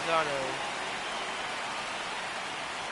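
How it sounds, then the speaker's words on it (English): Steady rain hiss in the video game MLB The Show 26 fills the scene, with a short voice-like tone at the start fading into constant, even patter throughout. "It's raining again."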